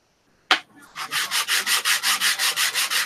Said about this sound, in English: Look at that stiffer sandpaper